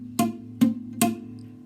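A beginner plucks two strings on a guitar, giving three separate twangy notes about 0.4 seconds apart, each ringing briefly and fading before the next, up close and alone.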